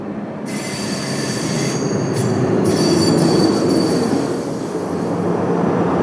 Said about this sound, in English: after arriving at Østerport station, EA 3020 departed with an empty stock move for the last time